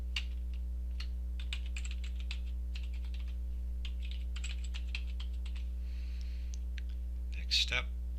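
Keystrokes on a computer keyboard tap out a username and password in short bursts of quick clicks with brief pauses, over a steady low electrical hum, ending in a louder clatter.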